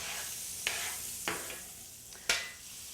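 Cubed chicken breast sizzles in a pan for paella, a steady bright hiss broken by three soft stirring scrapes, close and even throughout.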